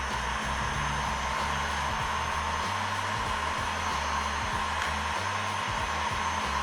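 Heat gun blowing hot air over a pistol magazine holster, a steady continuous whooshing roar with a low motor hum, close and constant throughout with no talk.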